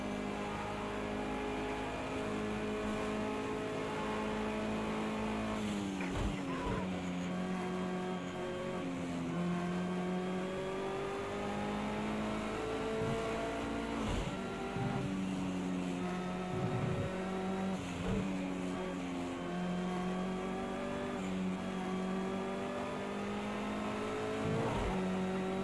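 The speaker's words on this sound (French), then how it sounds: "vous laisser écouter le moteur de la Bentley" Bentley EXP race car at the 24 Hours of Le Mans circuit, its engine droning loud and steady throughout with rising and falling revs and sharp gear-shift breaks near 6, 14 and 18 seconds.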